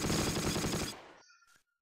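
Machine gun fire in the Close Combat WWII strategy game: a rapid close burst of rattling automatic shots lasting about a second, cut off abruptly and followed by a brief faint electronic tone.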